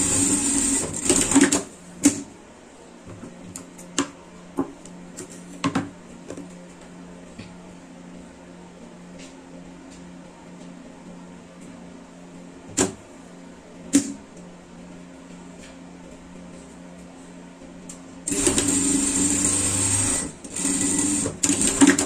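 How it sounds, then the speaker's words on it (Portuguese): A home sewing machine stitching fabric for a tracksuit jacket, black thread on top and white below: short whirring bursts and scattered clicks, then a steady, louder run of stitching near the end, with no talking. "Vou costurar assim mesmo com a linha que tá aqui"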